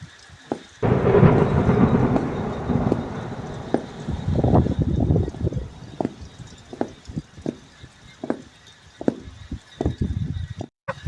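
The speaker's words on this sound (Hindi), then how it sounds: "बादल बहुत जोरों से गरज रहे थे" Thunder rumbles through a heavy downpour in a rain-soaked cartoon story scene, a long rolling peal up front giving way to scattered cracks and patters of rain, with no voices.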